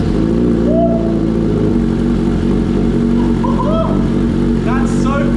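A Suzuki GSX650F motorcycle fitted with a new exhaust runs loud and close, a steady deep idle throb with brief rising blips of throttle, and a voice talking over it.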